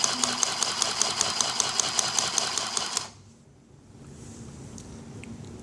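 A Singer Stitch Sew Quick handheld sewing machine stitches in a fast, steady run of clicking pulses, close and loud for about three seconds, then cuts off, leaving a quiet room tone.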